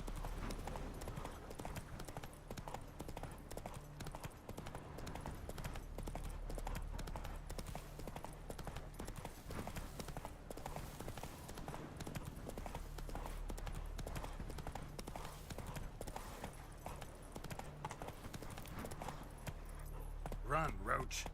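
Roach, Geralt's horse in The Witcher 3 video game, gallops with fast, rhythmic hoofbeats and light tack jingling, fairly close, while a voice talks over it now and then.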